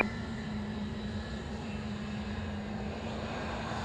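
Avro Vulcan jet bomber taking off at the RAF Waddington Air Show, a steady broad engine roar holding level throughout after a brief sharp onset.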